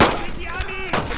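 Gunfire in the World War II shooter Brothers in Arms, with bursts of shots and rattling fire that stay loud and close through the moment while soldiers shout over the din.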